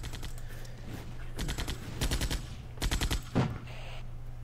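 Bursts of machine-gun and rifle fire crackle in house-to-house fighting in the war game Armored Brigade, several rapid volleys at moderate distance followed by a single heavier impact.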